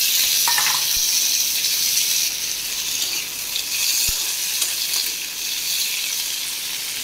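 Potato frying in a pan with salt and turmeric gives a steady, close sizzle that softens a little partway through, with a couple of faint clicks and no speech.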